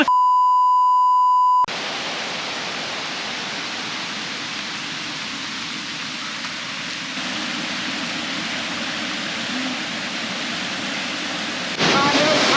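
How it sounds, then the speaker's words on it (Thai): The heart-shaped Pi Tu Gro waterfall in Umphang gives off a steady, broad rushing roar of falling water, opened by a brief electronic beep. "เบื้องหลังของผมตอนนี้ก็คือ น้ำตก ปิตุโกหรือว่าน้ำตกรูปหัวใจอำเภออุ้มผางจังหวัดตานะครับ"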